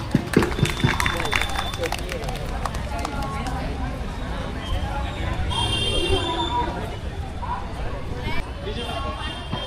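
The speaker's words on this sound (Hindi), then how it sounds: "एक बार तालियां बजाइए।" An audience at a neighbourhood cleanliness meeting in Kashipur claps briefly and sharply at the start, then settles into crowd babble and chatter with voices talking over it.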